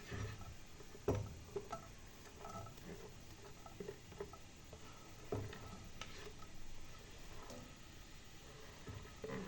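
Onions fry in a pan, a faint low sizzle with occasional soft knocks and stirring sounds from a utensil.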